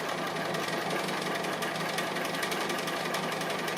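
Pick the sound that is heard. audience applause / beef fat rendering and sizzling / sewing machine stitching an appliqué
sewing machine stitching an appliqué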